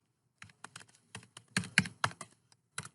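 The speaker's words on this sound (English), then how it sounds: "what I need to do is to type set environment and then STDB and then my home directory" Bursts of close, crisp keystrokes on a computer keyboard in short clusters separated by pauses, typing out a command, with no talking.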